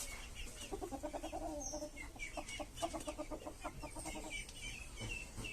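Several chickens clucking nearby in a rapid, busy chatter of short repeated calls that overlap continuously, with no talking.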